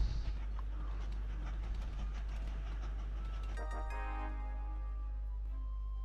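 A train runs in the railway video game Train Valley on a Japan level: a steady rolling rumble that gives way partway through to a cleaner layer of sustained tones, with no talking.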